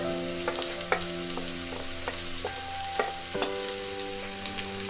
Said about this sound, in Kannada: ನೋಡಿ ಜಿಂಜರ್ ಗಾರ್ಲಿಕ್ ಪೇಸ್ಟ್ ಎಲ್ಲ ಫ್ರೈ ಆಗಿದೆ